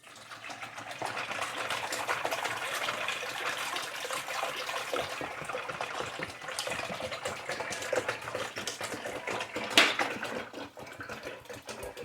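Distilled water being poured, a continuous close gushing trickle of moderate loudness that runs steadily for about twelve seconds, with a brief sharper splash near the end.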